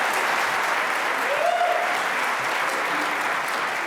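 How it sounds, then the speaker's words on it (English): Applause from a conference audience at an industry summit, steady dense clapping filling the room for the whole stretch with no break. "You can clap for Michael."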